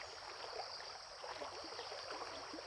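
Soft, continuous rushing and trickling of a flowing mountain stream swollen by rain, steady and fairly faint, with no voices.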